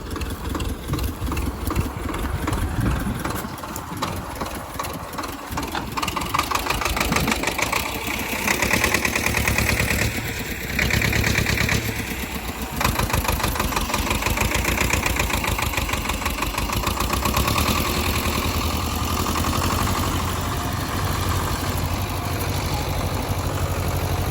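Homemade T-25 tractor converted to four-wheel drive labours under load while ploughing a field, its engine droning steadily and loudly throughout with rough, knocking pulses and no talk over it.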